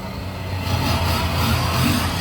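Loud, rough engine rumble with the muffler removed, rising slightly and staying steady, with a raw, throaty exhaust drone and no talking.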